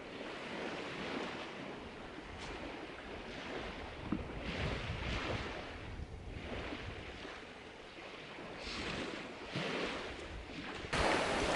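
Ocean surf and wind on the Arctic Ocean, heard from a kayak near shore, with steady broadband wash swelling and easing in waves, wind buffeting the microphone, loud and continuous without voices.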